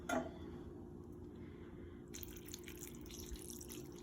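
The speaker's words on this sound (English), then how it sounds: "chicken broth. I'm gonna just pour that over the top." Chicken broth is poured from a container over the top of green beans in a pot, a soft, steady liquid splash close by, quiet and continuous, growing slightly brighter partway through.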